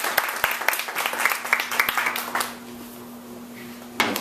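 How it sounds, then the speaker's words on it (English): A small audience at a bookstore reading claps briefly, with scattered individual claps standing out for a couple of seconds before fading into a quiet room hum, followed by a single knock near the end. "how about a round of applause for Jeff for putting all this together?"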